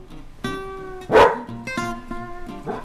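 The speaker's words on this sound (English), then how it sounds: "dogs barking." Dogs barking in a short run of sharp, tonal barks, with a loud, strained yelp in the middle and several quicker barks after it, close and clear with no voices.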